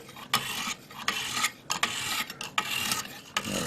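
A steel knife blade is ground back and forth on a medium sharpening whetstone in repeated rasping strokes, each with a short pause between, loud and close with no talking.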